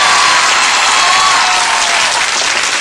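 Steady, dense studio audience applause greeting guest dancers on a television show, loud and continuous throughout with no talk over it.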